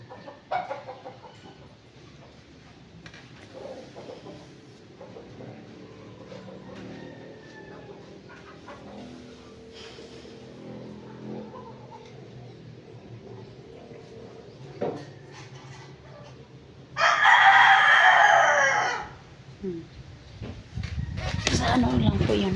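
A neighbour's chicken perched on wood clucks softly against a quiet backyard background with faint voices, and a loud rooster crow bursts in close near the end, followed by more rustling noise.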